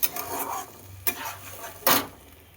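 Masala stirred and fried with tomato and capsicum for a vegetarian egg-style curry: a low sizzle broken by a few scraping strokes of a spoon against the pan, close and moderately quiet, no speech.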